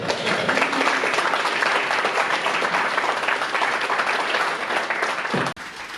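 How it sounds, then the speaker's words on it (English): An audience at the Gig City Elixir 2019 conference applauds as a speaker is introduced, a full, steady wash of clapping that holds loud for over five seconds before cutting off abruptly. "give him a round of applause"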